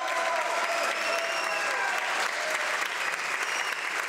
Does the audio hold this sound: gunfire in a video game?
no